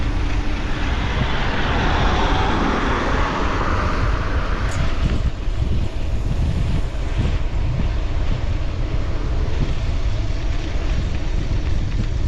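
Steady wind roars across the microphone on a bike tour along the hilly Infanta Loop road in Real, Quezon, a loud broadband rush that holds unbroken for the whole stretch with no voices.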